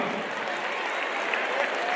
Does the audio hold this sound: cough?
no